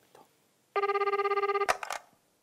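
A telephone rings with a fast electronic trill, one sustained burst of warbling tones that cuts off abruptly, followed by brief handling clatter, close and clear.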